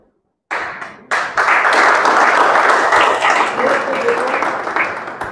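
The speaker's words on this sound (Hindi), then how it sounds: "अभी हमने 45 लाख में इतनी ताली बजाई समझा" Audience applause at a talk about health and income bursts in after a brief silence, dense clapping from many hands sustained at full strength and slowly tapering, with a voice speaking over it.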